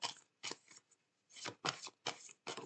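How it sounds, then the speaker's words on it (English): Tarot cards riffled and shuffled by hand in quick bursts, four or five crisp papery ruffles separated by short pauses, close and alone with no talking. "I'm just going to shuffle the traditional way."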